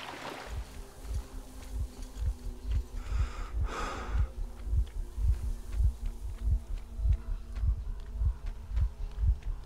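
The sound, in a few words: heartbeat sound in video game Metro Exodus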